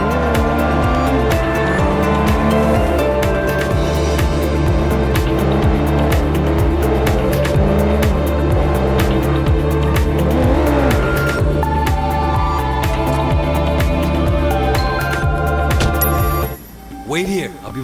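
A car races through streets in Sleeping Dogs: Definitive Edition with the engine droning loudly, tires squealing and skidding repeatedly, layered over music and game sounds, with voices talking throughout.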